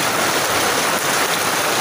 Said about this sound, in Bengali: বৃষ্টি যেহেতু বেশি হইতেছে